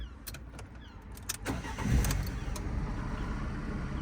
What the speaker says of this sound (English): It's battery's on, so it starts straight up.